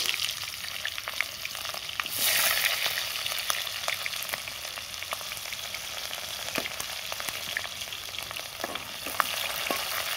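Onions fry in a pan with a steady, moderately loud sizzle, a brief louder surge early on and scattered crackles and pops, heard close and alone.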